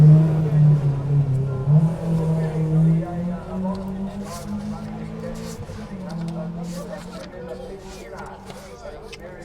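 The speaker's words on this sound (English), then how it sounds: "So Brendan Mitchell from Winton in Southland heads up the hill in the Datsun 1600" Datsun 1600 rally car accelerating up a forest hill at a rally sprint, engine note rising through gears and fading into the distance, with a commentator talking over it.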